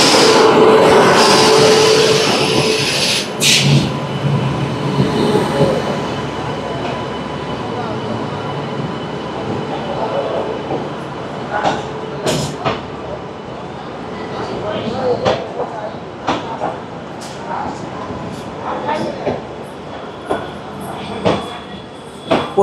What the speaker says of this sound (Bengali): এনজিপি থেকে হাওড়াগামী শতাব্দী এক্সপ্রেস এখন হাওড়া স্টেশনের প্ল্যাটফর্ম নম্বর 11 ঢুকছে